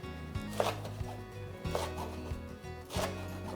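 Vegetables sliced into 5-6 cm lengths for a spring side dish, three or four crisp chopping strokes on a cutting board with brief rustling between them, close and clear.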